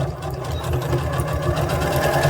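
A sewing machine back stitching fabric for an activity quilt runs with a fast, steady mechanical chatter and a low motor hum, close up and without any voices.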